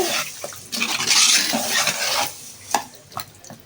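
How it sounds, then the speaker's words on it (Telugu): Fish being mixed by hand with tamarind juice for a curry: wet squelching and sloshing swirls, close and continuous, with a few sharper splashy knocks toward the end and no talk. "ఈ విధంగా మొత్తం చింతపండు రసం తీసుకున్న తర్వాత ఈ విధంగా మొత్తం కలిపేసుకోవాలి."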